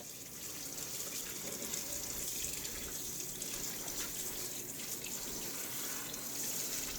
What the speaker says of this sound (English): I think we'll just rinse this whole thing off for added suspense.